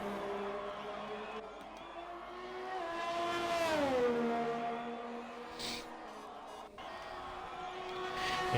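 Ferrari race car in an Italian round of a racing video game, its engine note rising and falling as it brakes and accelerates through the final corner, steady and loud with a brief tire squeal.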